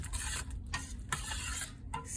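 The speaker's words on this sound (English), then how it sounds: "Make sure you stir everything thoroughly" A utensil scrapes and stirs spiced chickpeas with curry powder in a pan. Close, repeated scraping strokes run under a faint sizzle.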